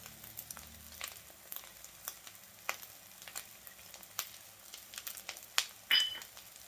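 Spring onion greens roast in a pan with a quiet, steady sizzle. Soft crackles and stirring scrapes run through it, and a sharper clatter comes near the end.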